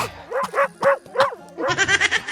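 A dog barks close by, a few evenly spaced woofs followed by a quicker burst of yapping barks.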